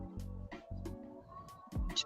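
A house cat gives a few short meows in a quiet indoor room, several distinct calls spaced apart, close and fairly soft, with no talking over them.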